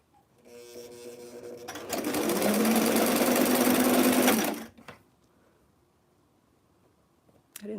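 Sewing machine stitching the last stretch of a T-shirt sleeve, running in one loud continuous whirring burst for about three seconds after a few softer starts, then stopping into near quiet.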